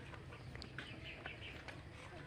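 Chickens clucking softly at a distance on a small farm amid steady background noise, with short scattered calls over a low hum.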